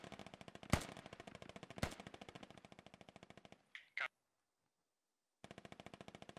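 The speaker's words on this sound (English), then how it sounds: "Oh, Strazok taking shots." Rapid automatic gunfire rattles in the video game Squad, with two sharp louder bursts standing out. A brief snap follows, then silence, before the steady firing resumes.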